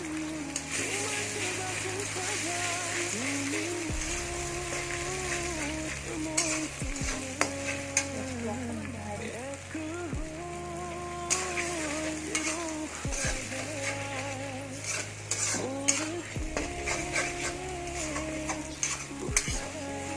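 Eggs fry and are stirred in a home-kitchen pan, a steady sizzle running throughout with repeated scraping and light clinks of utensil on metal, while a voice talks over the cooking.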